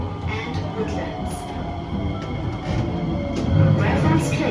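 Singapore MRT train at a station platform, a steady rumbling interior roar with low-frequency rolling that swells louder near the end, with brief higher hisses and a voice talking faintly under it.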